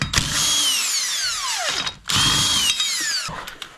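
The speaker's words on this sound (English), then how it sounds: "Then we're gonna remove the lug nuts." A power drill removes lug nuts from a Nissan Altima's rear wheel, giving two loud, close bursts of rising and falling motor whine with a brief pause between them and no talking.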